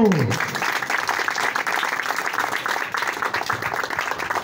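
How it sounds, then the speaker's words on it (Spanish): An outdoor audience at a street naming ceremony breaks into steady, dense applause that carries on evenly for several seconds, with a voice briefly audible at the start. "así concluimos con un fuerte aplauso"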